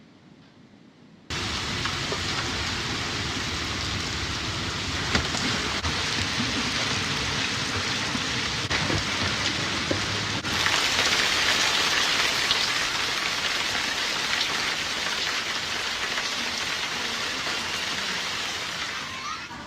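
Heavy rain pours down steadily in a dense, continuous hiss that starts abruptly after a second of near-silence and keeps a constant loud level to the end, with no talk over it.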